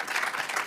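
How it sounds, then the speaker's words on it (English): An audience at an online university challenge grand finale breaks into a short, steady wash of applause, even and sustained with no distinct individual claps standing out. "a big round of applause for Edward"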